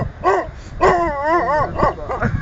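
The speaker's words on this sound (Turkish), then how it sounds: "Yabancı bir köpek var sayın seyirciler" A dog barks and whimpers in a quick run of high, yelping calls, close by and fairly loud, with no talking.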